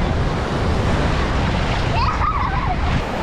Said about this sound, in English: Listen, see how high them waves getting up there?